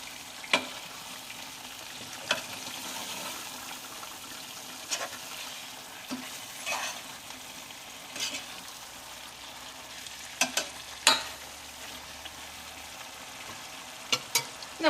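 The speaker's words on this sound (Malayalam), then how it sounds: "ഒന്നുകൂടി നമുക്ക് നന്നായിട്ടൊന്ന് മിക്സ് ചെയ്യാം" Kerala chicken roast sizzles steadily in a pan while a utensil stirs it. Sharp scrapes and clacks break through the low frying hiss every second or two, with no talking.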